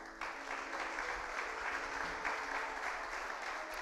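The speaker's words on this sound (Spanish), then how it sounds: "aplauso al Señor" A church congregation applauds during a Bible study service, steady massed clapping at moderate loudness from start to finish with no speech over it.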